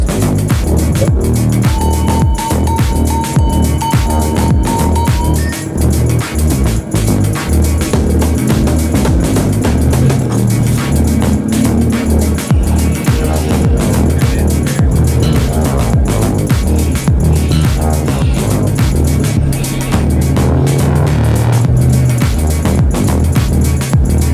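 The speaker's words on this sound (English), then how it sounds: "as we drive down this mountain after the first day of filming" A Jeep drives down a mountain road during an off-road adventure, its engine a steady close throbbing drone with continuous road and tire noise, loud and unbroken throughout, with no talk.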